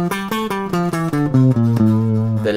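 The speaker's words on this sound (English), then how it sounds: "The Phrygian mode, which sounds like this." A Phrygian mode scale is played over two octaves in a fast run of clear sustained tones with about a dozen notes in quick even succession, the last one held longer, heard up close with no talking.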